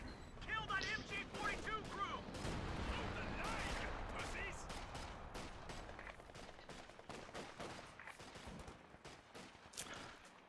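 Rifle volleys and artillery in a Company of Heroes 2v2 match, crackling bursts of gunfire with sharp shots scattered throughout at a fairly quiet level, while a commentator talks over the fighting.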